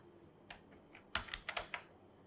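A computer keyboard typed on briefly in a quiet room, a few sparse keystrokes followed by a quick cluster of clicks, close and clear with no voices.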